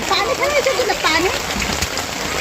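Heavy rain falls steadily in a dense, continuous hiss close by, with people talking over it.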